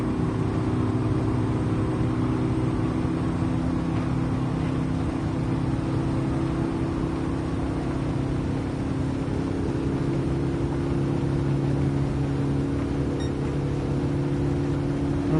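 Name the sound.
car engine at full throttle in Gran Turismo 7 video game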